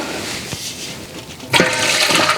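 Water splashes and sloshes in a canning pot as glass jars are lowered in, with a short slosh followed by a louder, sustained rush of moving water.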